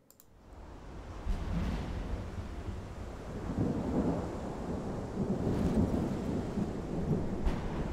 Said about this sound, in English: Oh shit, look at this storm. It's so big.